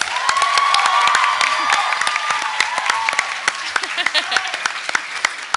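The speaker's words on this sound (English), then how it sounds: "One last round of applause for these guys." Audience applause fills a talent show hall, dense clapping mixed with cheers and scattered whoops that holds steady, then thins into separate claps as it dies down near the end.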